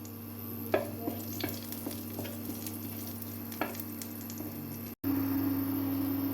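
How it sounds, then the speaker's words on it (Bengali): Whole cumin seeds, bay leaf and dried red chilies crackle in hot oil in a kadai, a steady close sizzle broken by sharp clinks of stirring and a low background hum, with a brief dropout near the end. "এবার গোটা জিরে দিয়ে দেবো, তেজপাতা, শুকনো লঙ্কা ফাটিয়ে দিয়ে দেবো।"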